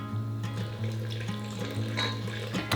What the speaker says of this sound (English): And then 370 ml of warm water.